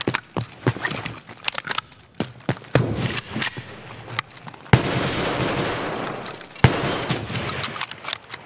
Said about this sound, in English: They threw six grenades.